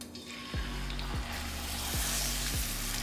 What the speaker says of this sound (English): I already have my oil heating up in this skillet.